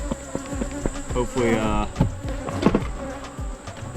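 Honeybees buzz around a beehive, a dense close drone of many wings with individual bees passing near, rising and falling in pitch over steady background hum.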